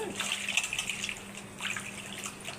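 Tamarind is squeezed and rinsed in water, making close, gentle sloshing and dripping in short bursts, with quiet talk at times.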